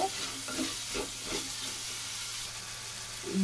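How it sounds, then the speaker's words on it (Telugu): Spice masala and ridge gourd frying in oil for a curry, giving a continuous close sizzle and hiss with occasional soft stirring scrapes and a low steady hum, and no one talking. "ఆయిల్కి మంచిగా పట్టేలాగా మసాలా అంతా పట్టేలాగా ఇలా వేయించుకోవాలి"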